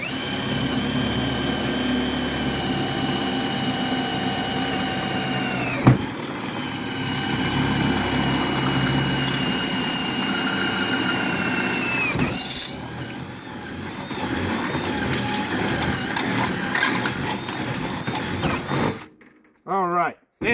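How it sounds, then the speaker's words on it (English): A power drill bores a mounting hole for a 16 ft Expandacraft outrigger canoe kit, whining steadily at close range with pitch shifts and a brief break partway, while a person talks over it. "Now I can go over here and drill the second one."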